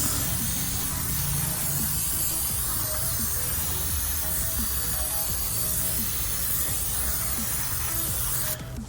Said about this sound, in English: let me spray some more brake cleaner to remove this dust